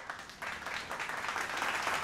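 A burst of applause, many hands clapping in a steady, dense patter that stays fairly quiet and even throughout, with no voices over it.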